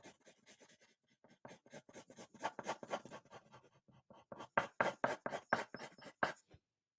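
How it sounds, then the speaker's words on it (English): Pencil shading on paper, pressed hard with tight, close strokes: a run of scratchy, rhythmic scribbling strokes, close up, growing louder and more insistent toward the end before stopping abruptly. "I can press hard with my pencil and my lines have to be super close together"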